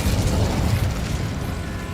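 Incendio fire spell blast cast in Hogwarts Legacy, a sustained roaring whoosh with low rumble that holds steady for about two seconds, loud and close with no talking.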